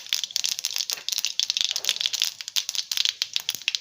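Cashew nuts hit hot coconut oil already holding mustard seeds and urad dal, setting off a busy, close crackling and sputtering that pops in rapid uneven bursts throughout.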